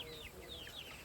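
A chicken clucking near a backyard coop, soft repeated chirpy clucks in a quiet outdoor setting with faint background hiss.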